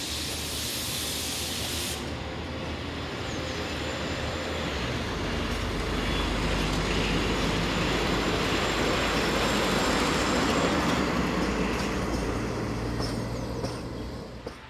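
A class 714 passenger train on the Kladno to Prague service passes close by with a long steady hiss and rumble that swells in the middle and eases toward the end.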